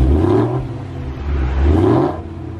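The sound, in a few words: car engine revving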